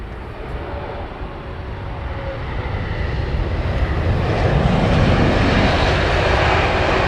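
A large twin-engine Airbus A350 airliner arriving on runway 27R at Heathrow, its steady broadband jet roar swelling from a distant rumble to a loud, continuous near pass with no speech.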